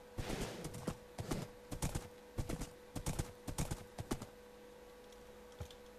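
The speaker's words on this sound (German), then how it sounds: "Durch Wald reiten mit einem Pferd ist immer sehr dämlich." Horse hooves in the Minecraft video game, ridden through a forest: a run of irregular, close clip-clop steps for about four seconds, then a pause and one last isolated hoof strike, with no talk.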